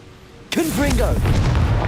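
A Confringo fire spell detonates in Hogwarts Legacy, a sudden booming blast after a quiet half second, followed by a sustained roaring rumble as a voice calls out over it.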